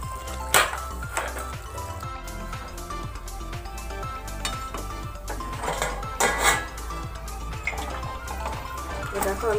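Cooked rohu fish kalia is poured and scraped from a pan into a serving dish, with close clinks and knocks of metal and utensils in a busy, steady kitchen clatter.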